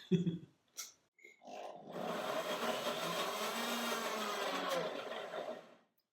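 A blender whirs steadily for several seconds after a few short knocks and clicks, blending yogurt for banana ice cream, then winds down and stops.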